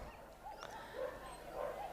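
A Border Collie at an agility competition gives a few short yips and barks, faint and somewhat distant over a low crowd and arena background.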